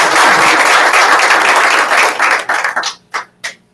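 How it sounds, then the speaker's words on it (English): A sales meeting group gives a round of applause, loud, dense clapping that thins out and ends in a few last scattered claps. "give him a nice little round of applause for Frank"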